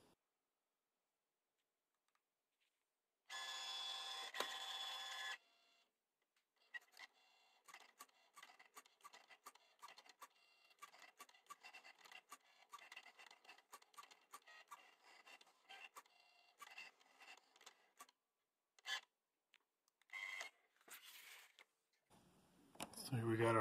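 A blade cutting machine cutting gaskets from cardboard on a mat, with a loud whirring motor burst followed by a long run of quiet, rapid ticking and clicking carriage movements, near and fairly faint.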